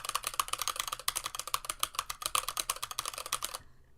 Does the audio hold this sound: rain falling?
no